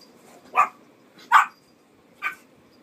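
Three separate barks from a nearby dog, evenly spaced with short pauses, the last one slightly softer.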